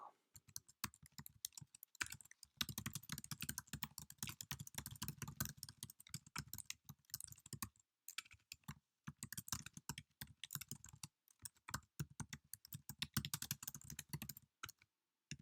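Quick bursts of typing on a computer keyboard, dense close key clicks in runs with short pauses between words, quiet and steady, with faint speech in places.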